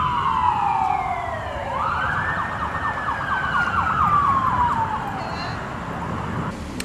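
A police car siren during a neighborhood pursuit, a loud, close wail that dips, then rises and holds in a rapid warbling yelp before fading, over a constant background rumble.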